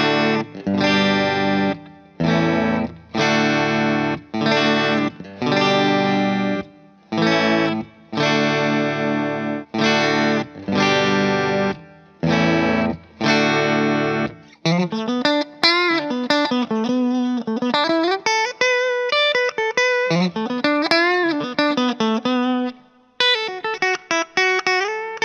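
Distorted electric guitar, a modded Squier Debut, strums a series of chords in short rhythmic bursts, then shifts into a denser, effects-laden passage with moving notes, loud and close.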